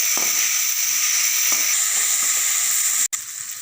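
Tomatoes and onions sizzle and fry in a pan for Tamil egg curry, a steady close hiss with a few soft stirring knocks and a brief break near the end, no talking.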